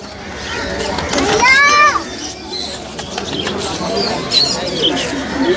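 Giribaz pigeons at a pet market give a brief rising coo with harmonics near the middle, heard amid busy market chatter and voices, with a voice also in the background.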